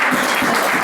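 Church congregation applauding in praise during a French-language service, a loud, dense, continuous burst of clapping heard close and alone.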